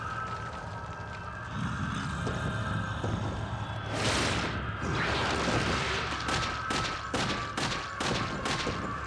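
Video game gunfire: a burst of rapid shots and a blast, then a string of sharp, evenly spaced reports toward the end, close and loud with no talking.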